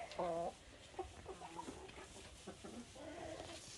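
Several backyard sanctuary hens cluck in short bursts, a loud close call at the start followed by softer scattered clucks and murmurs from the flock, with no talking.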